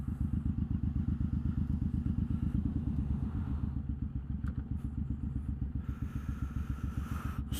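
A guest motorcycle nicknamed The Bullie thumps along under a rider, its engine giving a steady, rapid pulsing beat close by, with wind and faint clatter above it throughout.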